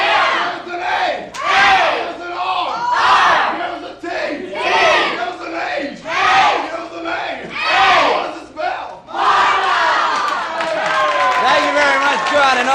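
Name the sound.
studio audience chanting a spelled-out cheer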